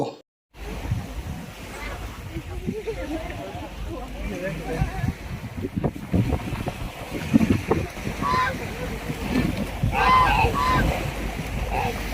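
Ducks honk and quack nearby as they are fed leaves, amid wind and lapping water, with people talking in the background.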